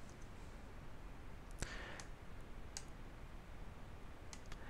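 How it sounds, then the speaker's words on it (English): A computer mouse clicks while finishing a pattern in Adobe Illustrator: a single sharp click near the middle and a few fainter ticks later, all quiet and close over a low hiss, with no talking. "I'm just going to click done here."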